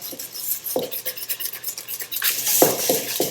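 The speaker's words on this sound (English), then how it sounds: "Now I'm going to go in and quickly whisk this all together." Browned butter, egg and vanilla cookie batter whisked in a bowl, a close run of rapid rhythmic metal scraping and clinking that grows louder toward the end, with no voices.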